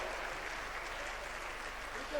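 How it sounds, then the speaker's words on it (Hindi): An audience at a Jain Panchkalyanak religious ceremony in Guwahati applauds with faint, steady, distant clapping that runs throughout. "तालियों की गड़गड़ाहट रुकनी नहीं चाहिए महानुभाव"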